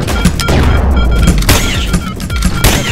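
Dual-wielded shotguns fire in the video game Rec Room, a dense, loud barrage of overlapping booms and thumps packed close together across the whole stretch.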